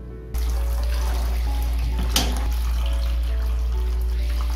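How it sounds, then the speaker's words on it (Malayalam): Cold tap water runs steadily into a pot of boiled eggs, a close, even splashing flow starting abruptly after a brief pause and continuing without talk. "ഇനി ഇതിലേക്ക് പച്ചവെള്ളം ഒഴിച്ചിട്ട് ഇത് തണുത്തതിന് ശേഷം കഴുകിയെടുക്കാം."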